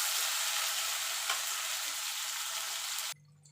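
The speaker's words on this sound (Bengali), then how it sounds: "এবার আদা কাঁচা লঙ্কাটা একটু কষিয়ে নেব" Ginger and green chilli paste fries in hot oil for a vegetable potato dish, a dense, steady sizzle that cuts off abruptly near the end, leaving faint background hum.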